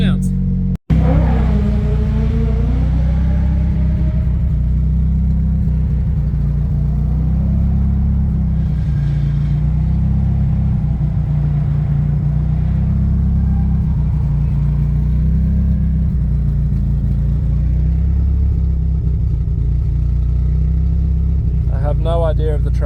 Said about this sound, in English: Let's warm the car up and go do some burnouts.